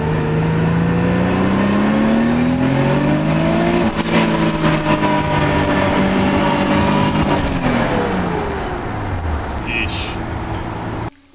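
A Nissan 300ZX engine pulls on a test drive, its pitch rising and falling through the gears, loud and close, with road noise beneath it.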